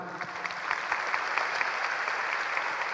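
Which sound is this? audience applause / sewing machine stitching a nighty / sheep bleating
audience applause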